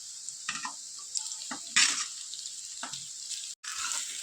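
Cooked pasta being stirred into white sauce in a pan: soft scraping and wet clattering strokes at irregular intervals, quiet and close, over a faint background sizzle.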